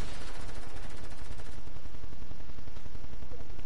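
Rapid SMG gunfire in Fortnite, a dense, continuous burst of loud close shots running the whole stretch with no pause.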